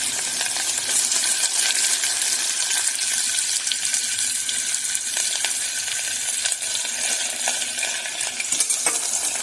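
Onion goes into a pan of browned garlic for a bottle gourd and dal dish and is stirred, producing a steady, dense sizzle that stays loud and close throughout with no speech over it.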